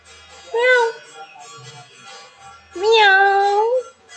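A voice mimics a cat, giving two drawn-out sing-song meows close up, the second longer and rising, with a quiet pause between them.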